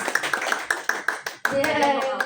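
People clapping hands during a Simon Says game in a public speaking class: a rhythmic series of about eight evenly spaced claps, then a voice speaking at the end.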